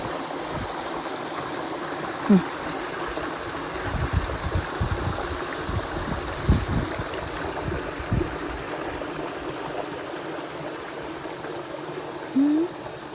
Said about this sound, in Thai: น้ำไหลลงมาจากเทือกเขาหลังจากที่ฝนตกเมื่อวานเนาะค่ะเนาะ